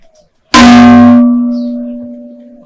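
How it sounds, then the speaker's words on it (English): A gong struck once after a brief pause, a loud metallic clang with a strong ringing tone that decays slowly over two seconds. "Give me gong."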